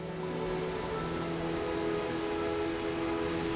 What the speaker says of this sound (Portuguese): em forma de chuva.